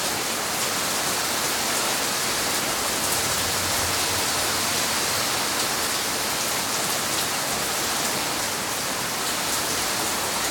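Heavy rain pours steadily in a strong thunderstorm over central Oklahoma, a dense, loud, unbroken roar of downpour mixed with wind and no voices.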